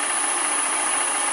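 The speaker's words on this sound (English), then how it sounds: "So I'll just chew the hole up a bit again with the hollow pointed end mill before starting again." A hollow, pointed end mill cuts a hole in metal with a steady, unbroken grinding hiss at constant loudness, close and alone.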